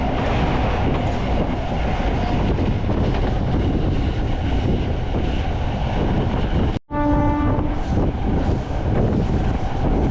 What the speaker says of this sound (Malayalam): ഇപ്പോൾ ഈ ട്രെയിൻ പോയിക്കൊണ്ടിരിക്കുകയാണ്. ഇത് മെമു ആണ്.